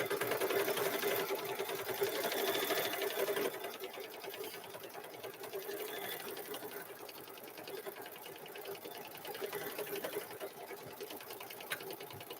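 A sewing machine runs steadily at a fast even whir while stitching easy loop quilting in variegated thread on a cow-themed quilt, close and continuous with no voices.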